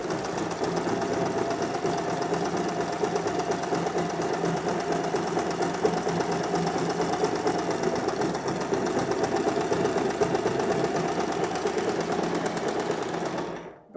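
A sewing machine runs a zigzag stitch along a fabric edge, its steady rapid needle chatter continuing loud and close for the full stretch before halting at the end.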